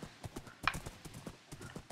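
Rhythmic hoofbeat clip-clops from a horse on a video game farm, a steady run of evenly spaced steps at moderate volume with no talking over them.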